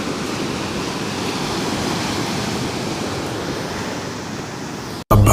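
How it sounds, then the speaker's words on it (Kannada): Sea waves crash on a shore where people fish, making a loud, continuous roar of surf that never lets up, then cuts off sharply at the very end. "ನೋಡಿ ಗೈಸ್. ಇದು ಸಮುದ್ರ"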